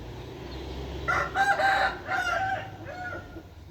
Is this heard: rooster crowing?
yes